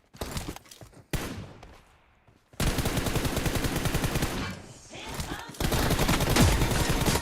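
Gunfire from a shooting video game crackles in rapid automatic bursts, loud and close, broken by short silent gaps and a softer stretch between volleys.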